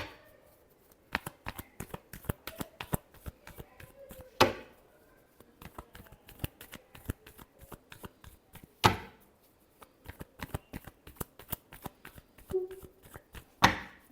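Tarot cards shuffled by hand in a steady flurry of quick papery riffles and taps, with a few louder slaps as the deck is squared, close and fairly quiet with no talking.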